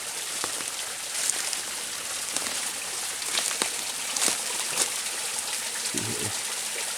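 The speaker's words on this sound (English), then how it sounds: "this cutest little waterfall" A small waterfall spills inside a little rock shelter where icicles drip, a steady close splashing hiss with scattered patters of drops and no talking.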